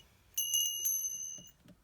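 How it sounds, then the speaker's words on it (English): A small bell is struck once and rings with a bright, clear, sustained tone that fades over about a second, close and alone in a quiet room. "bells, I have this bell as well."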